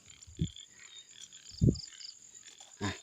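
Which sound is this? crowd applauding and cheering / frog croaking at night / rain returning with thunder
frog croaking at night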